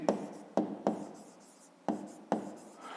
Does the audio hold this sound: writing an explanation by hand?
yes